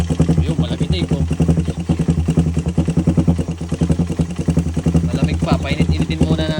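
A Suzuki Raider 150 motorcycle engine, freshly fitted with a swapped cylinder head, runs close by with a loud, steady pulsing idle and rattling clatter, and a voice talks over it.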